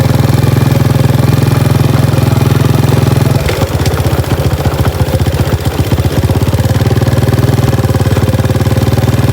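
A tractor engine runs loud and close, with a steady low drone that turns into rapid rough knocking pulses partway through before settling back into a continuous rumble.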